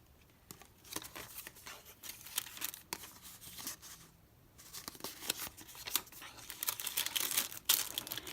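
Glassine bag of paper images handled in a junk journal, with close, crisp crinkling and rustling in uneven bursts that grow busier toward the end. Quiet overall, with no talk.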